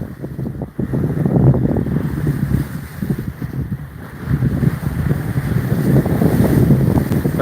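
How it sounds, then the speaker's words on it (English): A sailboat motor sailing on open water, with a blustery roar of wind buffeting the microphone over a low hum and the wash of waves, loud and continuous. "Granted, we are motor sailing."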